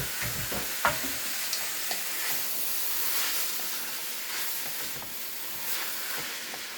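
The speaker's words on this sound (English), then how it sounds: "So we're going to add the sauce. And stir fry that all together." Ramen noodles and pasta sizzling as they are stir fried with sauce in a pan, a steady close hiss with a few scrape and clatter accents from stirring near the start.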